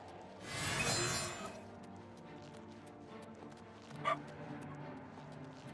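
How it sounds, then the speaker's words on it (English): A dog barks repeatedly in the video game Oblivion Remastered, fairly faint yips under ambient game sound, with a louder burst of noise early on and a sharper bark or whimper near the end. "Goddamn dog is still barking."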